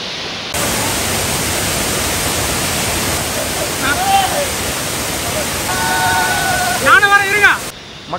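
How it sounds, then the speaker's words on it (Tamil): A large waterfall pours in the Agasthyarkoodam mountains, giving a steady, dense rushing roar throughout, with brief snatches of distant voices near the end. "அடுத்ததாக ஒரு பெரிய அருவி கொட்டுது பாருங்கள்"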